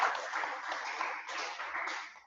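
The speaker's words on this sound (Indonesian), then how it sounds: "Tepuk tangan buat kalian semuanya." Applause from an audience at a school graduation ceremony for Quran memorization graduates, a steady, dense patter of many hands clapping continuously throughout without pause.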